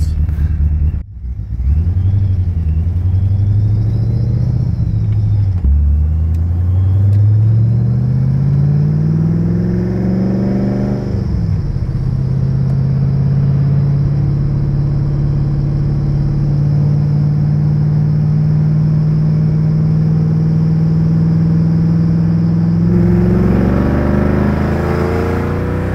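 The cammed, supercharged engine of a 1993 Ford Mustang Cobra rumbles loudly up close, climbing in pitch as it revs and then settling into a deep, steady drone.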